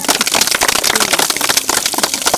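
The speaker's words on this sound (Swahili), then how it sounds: "Makofi tena." A crowd at a primary school tree planting event claps in dense, loud, continuous applause, close and without talk.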